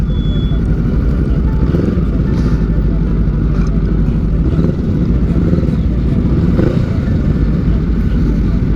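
Motorcycles board a RoRo ferry, their engines rumbling and revving in a dense, continuous roar. Clatter and traffic noise mix in, and the whole scene is loud and close.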